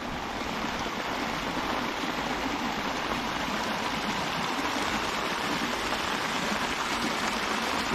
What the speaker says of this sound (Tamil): அங்க இருந்து தண்ணி எல்லாம் இங்கதான் வந்துட்டு இருக்குது